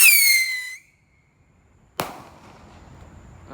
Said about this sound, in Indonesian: Lanjut ini kita nyalakan mercon roket warna biru.